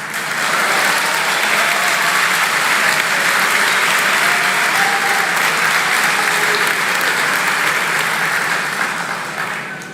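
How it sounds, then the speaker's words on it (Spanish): Sustained audience applause fills a legislative chamber during a presidential speech opening congressional sessions in Argentina, loud and dense throughout with faint crowd murmur beneath. "Por si no se escuchó por los aplausos"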